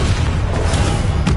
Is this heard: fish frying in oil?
no